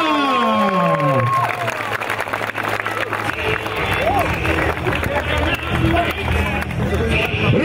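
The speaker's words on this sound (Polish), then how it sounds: "Gromkie brawa!" Loud crowd noise at a professional fight event, with cheering and clapping mixed with a sweeping musical or electronic whoosh and babble of voices, continuous and energetic throughout.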